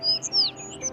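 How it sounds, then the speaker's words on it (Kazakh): Small birds chirp in quick, high tweets, several short calls overlapping over a faint hum of background noise. "Анау жақта торғайлар шырылдап тұр."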